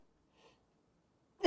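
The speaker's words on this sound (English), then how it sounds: "Hold on, I gotta sneeze." A single abrupt sneeze bursts out loudly at the very end, after near silence.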